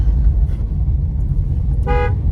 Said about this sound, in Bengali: একটা হর্ন দাও